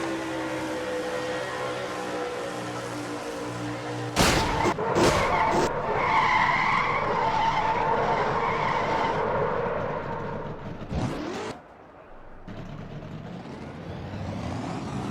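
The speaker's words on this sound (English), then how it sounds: "Osborne, Chung, Carson Gum, and Kev Shear all made it through this crash." Racing trucks in an Indianapolis truck-series racing video game crash and skid, with sharp impact bangs followed by a long grinding tire skid and engine roar, then another thud and a quieter engine at the end.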